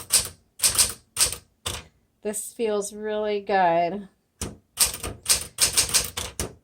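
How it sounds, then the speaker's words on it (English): Keys strike on a 1960s Smith Corona Classic 12 manual typewriter in sharp, rapid clacks, with a short spoken remark in the middle before the typing resumes. "let's go ahead and do our typing demo"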